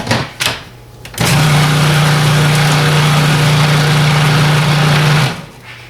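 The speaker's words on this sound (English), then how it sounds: "we want to process them until they're finely ground, but we don't want to turn them into nut butter" Food processor grinding nuts finely for flour-free brownies, a loud close motor whine running steadily for about four seconds with a rattling grind, preceded by a few short bumps and ending abruptly.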